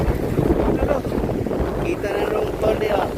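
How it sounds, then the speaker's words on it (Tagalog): Strong wind at sea buffets the microphone in a steady, loud broadband roar, with a boat and waves faintly beneath and a voice talking over it. "Dami ka jud hangin."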